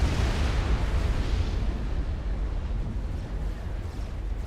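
An explosion in a strategy video game battle produces a dense, loud rumbling roar that fills the whole moment and slowly eases off, with no voices over it.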